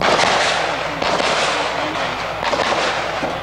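Gunfire at an outdoor shooting range, with loud sharp reports recurring roughly every second over a dense, noisy background, suggesting several shooters firing in quick succession.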